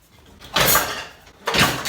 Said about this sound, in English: Oh my gosh, our drawer is stuck.